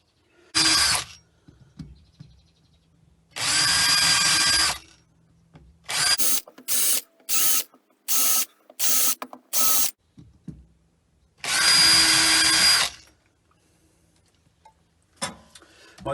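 A power drill drives screws into a wooden disc for a lathe disc sander setup, with several one-second whirring runs separated by silence and a quick series of short trigger pulses in between, close and loud.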